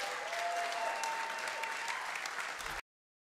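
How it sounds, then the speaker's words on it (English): Steady studio audience applause fills the room as a contestant is brought out at a live game show in New York, broadband clapping sustained at an even level for nearly three seconds before cutting off abruptly. "clapping right along"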